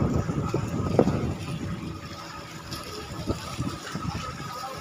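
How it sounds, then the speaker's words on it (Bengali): Lake water splashing and lapping at Massanjore, a steady broadband wash with wind buffeting the microphone and occasional louder slaps, heard up close with no talk. "এখানে দেখো জলগুলো আছড়ে আছড়ে পড়ছে, তারই আওয়াজ পাওয়া যাচ্ছে।"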